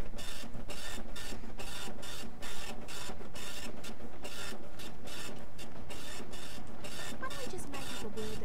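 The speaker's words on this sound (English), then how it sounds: "That's like the shittiest printer." A printer runs inside the video game Borderlands: The Pre-Sequel, chattering in a fast steady stream of mechanical clicks and buzzing strokes that continues loudly and without a break over a busy game soundscape.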